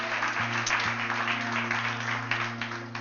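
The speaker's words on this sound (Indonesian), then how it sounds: "Bisa tepuk tangan buat Tuhan Yesus." A church congregation applauds during an Indonesian worship service, a continuous wash of clapping lasting a few seconds over a sustained organ or keyboard drone.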